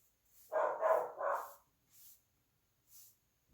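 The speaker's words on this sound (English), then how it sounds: "which I'm sure that is why my dogs are going absolutely crazy" Dogs bark at home, probably at the mail arriving: three quick loud barks in a burst, then two fainter, more distant single barks after pauses, with no talking.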